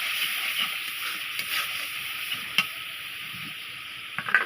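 Masala paste with cumin powder sautéing in a pan for a jackfruit dish, a steady soft sizzle running throughout with a few brief clinks and stirring scrapes.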